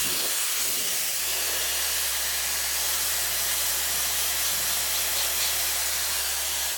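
A hair dryer blowing on a short wig makes a loud, continuous airy whoosh with a low motor hum beneath it, sustained and close for the whole stretch.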